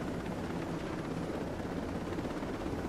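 A helicopter flying in the video game Ghost Recon Breakpoint, its steady rotor roar and engine hum filling the mix loudly and evenly throughout, with no voices.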